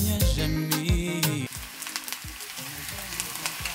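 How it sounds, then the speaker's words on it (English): Garlic and ginger frying in coconut oil and vegan butter for a vegan beef stir-fry, a loud close crackling sizzle with spoon taps and scrapes against the pan, the spatter turning lighter and sparser midway. "I'm going to add some vegan butter to that. And garlic. Also going to add some ginger as well."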